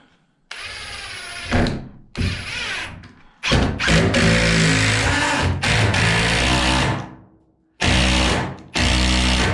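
A power drill driving screws up into bathroom framing built from reclaimed barn timbers in a small log cabin, several loud, close whirring bursts of varying length separated by brief pauses.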